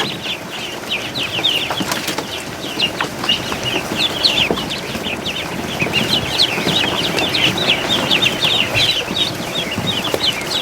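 Tiny Muscovy ducklings, including an undersized hatchling, give a dense stream of high, repeated peeping calls close by, continuous and fairly loud with soft scuffling underneath.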